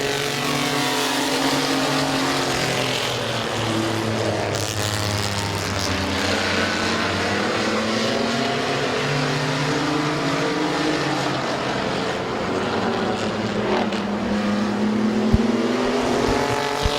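Mini trucks racing on the Midvale Speedway oval: several engines roar and rev together, their pitch rising and falling as they pass, a continuous loud racing drone with no voices.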